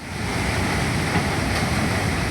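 A swollen mountain river torrent in North Sikkim's Dzongu valley after a night of heavy rain, a loud, unbroken roar of rushing water with no voices.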